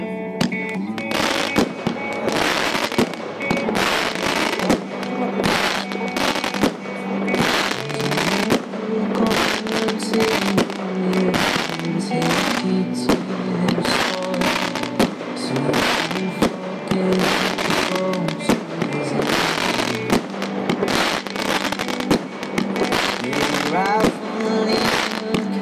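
Amazing Knight 30 mm calibre fireworks battery fired at a pyrotechnics demonstration: dense, continuous loud crackling and popping bursts overlapping without letup, with steady rumbling underneath.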